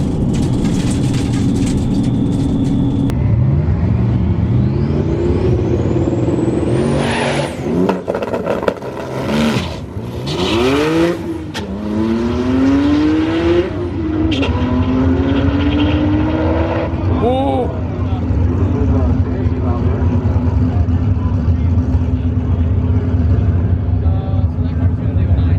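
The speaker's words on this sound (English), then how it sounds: "I've never been in a car that hooks this hard." A car engine revving hard and accelerating in rising pitch sweeps, loud and close over steady road and cabin noise, with people talking throughout.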